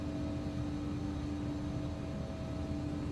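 Embraer E145 jet engines idling steadily while taxiing in X-Plane 11, a continuous broadband whine with a strong tonal hum, loud and unbroken with no talk.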